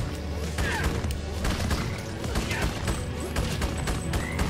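Rapid gunfire in the 90s-style action platformer Rad Rodgers, dense and continuous bursts of shots crackling throughout amid other game noise.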